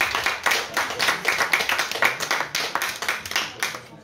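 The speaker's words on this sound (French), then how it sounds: "Vous pouvez encore les applaudir toutes les deux." An audience at a French family-themed conference applauds two authors with brisk, continuous hand clapping, fairly close and steady, with no talking over it.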